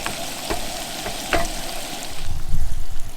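Food frying in olive oil in a pan at a campsite cooking setup, a loud close sizzle and crackle with a few stirring scrapes, growing busier toward the end.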